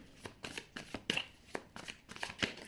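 Tarot cards being shuffled and drawn, a steady run of close, crisp riffling flicks and soft slaps repeating at a brisk, uneven rhythm, with no speech.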